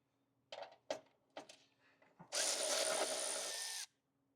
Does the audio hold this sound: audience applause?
no